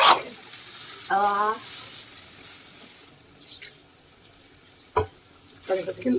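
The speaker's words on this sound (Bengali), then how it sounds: "এর মধ্যে আমাদের কেটে রাখা যে লাউ সেটা দিয়ে দেওয়া হলো দিয়ে ভালো করে মশলাটা মিশিয়ে নেওয়া হচ্ছে লাউয়ের সাথে" Chopped bottle gourd stirred into spice paste in a frying pan for a vegetarian lau ghonto: soft sizzling beneath intermittent scraping and clattering stirs, with a faint voice briefly heard.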